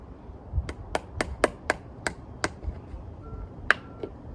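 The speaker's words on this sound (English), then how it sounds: "Found this tiny little hammer." A tiny hammer taps in a quick run of about eight sharp, evenly spaced strikes, then a pause and one or two final taps, close up.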